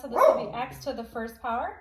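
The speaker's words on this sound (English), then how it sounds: "And you can hear my dog being extra right now," A pet dog barks in short, sharp yips inside a home, the barks mixed in with a person's steady explaining voice that keeps talking over them.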